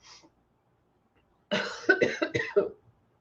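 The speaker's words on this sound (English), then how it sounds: "I'm trying not to start coughing" A short sharp exhale, then after a pause a string of five or six harsh, close coughs in quick succession.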